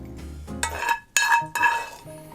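A metal pan clinks and scrapes as crispy pumpkin pieces are lifted out of it, with several distinct bright clanks in quick succession and no talk.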